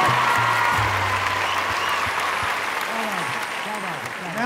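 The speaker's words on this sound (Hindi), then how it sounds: "एक बार दोनों हाथ उठा के तालियां बजाइए" Sustained audience applause at a Hindi poetry gathering honouring the late poet Neeraj, a dense steady wash of clapping throughout, with a voice speaking over it.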